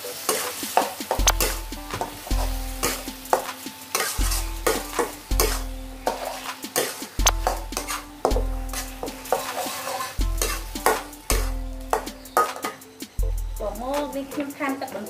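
Pork liver being stir-fried in a pan, with a spatula scraping and stirring in repeated strokes over a steady sizzle, close and fairly loud, with a few pot and utensil knocks.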